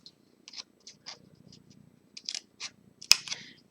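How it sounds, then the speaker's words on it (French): Scissors cutting cardboard for a handmade cardboard calendar, a series of short crisp snips in uneven rhythm, close and quiet against near silence. "on va couper là"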